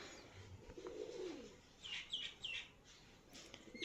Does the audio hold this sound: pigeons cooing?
yes